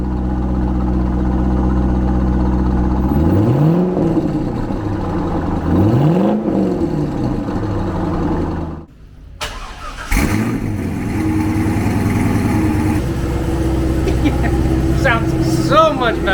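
A C5 Corvette V8 with longtube headers, an X pipe and cat delete starts up and idles close by. It gives a deep, loud rumble with rising and falling revs, briefly cuts out, then restarts and keeps idling.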